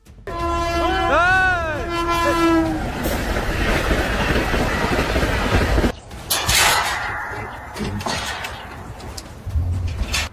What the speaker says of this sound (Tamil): மணிக்கு நூறு கிலோமீட்டர் வேகத்தில் வரும் ரயில்கள் எளிதில் உங்களை வேகமாக கடந்து செல்லும்